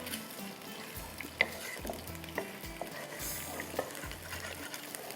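Mustard seeds frying in oil for a tomato chicken curry tarka, a soft continuous sizzle with sparse pops and a few light stirring knocks against the pan.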